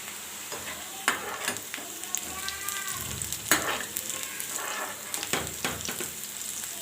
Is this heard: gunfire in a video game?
no